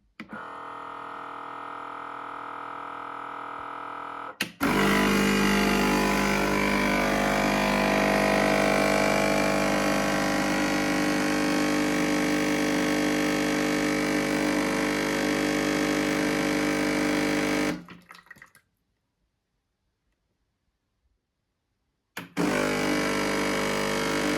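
A Nespresso Creatista Uno coffee machine running its descale cycle hums and pumps loudly, starting abruptly, running steadily, cutting to silence for a few seconds, then resuming; a quieter mechanical hum precedes it.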